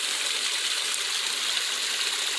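Waterfall and stream water on a hiking trail through a small canyon on private land near Dennard, Arkansas, making a steady, even rush that fills the whole clip without any voices.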